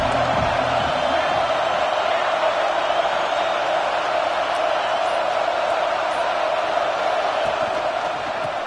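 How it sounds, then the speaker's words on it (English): A dense, steady roar of a stadium crowd cheering during a College Football 25 game, a constant wall of noise that holds loud and unbroken throughout. "This crowd ready to make its presence known."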